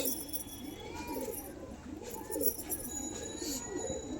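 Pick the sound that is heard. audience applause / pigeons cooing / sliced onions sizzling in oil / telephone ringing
pigeons cooing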